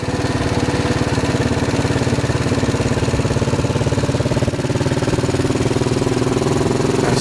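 A motorcycle engine with a freshly cleaned carburetor runs steadily while riding on the road, giving a loud, close, continuous throbbing drone with a fast, even pulse and no talking.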